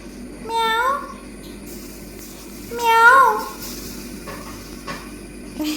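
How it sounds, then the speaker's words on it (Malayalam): A cat meows twice, two drawn-out rising-and-falling cries separated by a pause, close by with faint household clatter around them. "നമ്മുടെ ബാസ്ക് ചാടി കയറി വന്നേ പൂച്ചയുടെ സൗണ്ടും കേട്ട് വന്ന് നിൽക്കണുണ്ടോ"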